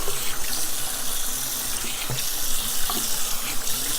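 Tap water runs steadily into a bathroom sink for rinsing, making a close, continuous splashing hiss with a few small knocks and no speech.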